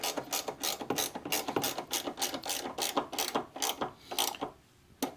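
A ratchet snugs headlight duct bolts fitted with nylon washers, giving a close, rapid run of rhythmic clicking strokes that pauses briefly near the end before a few more clicks.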